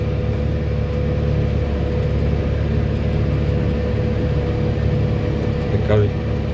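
A tractor pulling a SICH 6 seeder sows rapeseed, its engine droning steadily and close throughout, with a low continuous rumble and a faint brief rise near the end.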